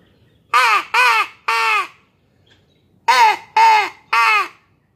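A hand-held call imitates crow caws: two groups of three loud, harsh, evenly spaced caws, close and alone, separated by a short silence.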